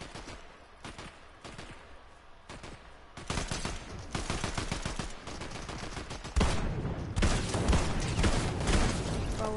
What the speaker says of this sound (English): Oh, he's shooting at him.